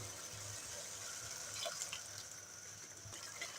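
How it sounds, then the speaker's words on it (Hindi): Half a glass of water pours steadily into a pan of tomato spaghetti, a continuous splashing rush lasting a few seconds close to the microphone. "अब इसमें मैं शामिल कर रही हूँ आधा गिलास पानी।"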